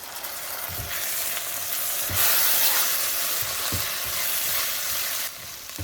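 Chopped garlic and curry leaves sizzle and sauté in a pan with a pinch of salt for a Kerala-style okra tamarind gravy, a steady broadband fry with occasional soft stirring knocks, no voices.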